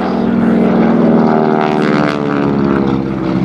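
A T-6 Texan propeller airplane drones loudly and steadily in high-G turns at an airshow, its engine and prop producing a strong buzzing tone with slight pitch shifts.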